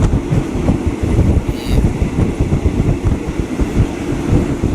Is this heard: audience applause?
no